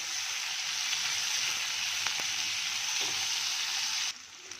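Capsicum sizzles loudly and steadily in a hot pan on high flame, with a couple of faint clicks, before the hiss drops off abruptly near the end.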